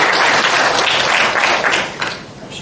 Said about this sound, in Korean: 다시 한번 우리 두 분 선생님에게 큰 박수 한번